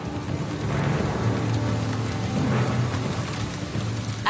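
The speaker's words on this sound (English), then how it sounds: "At the height of the rainy season, this area of the jungle receives up to 20 inches of rain a month." Heavy rain pours down steadily in a jungle during the rainy season, a dense, constant roar with low rumbling underneath, close and without voices.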